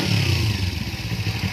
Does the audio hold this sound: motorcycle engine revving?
yes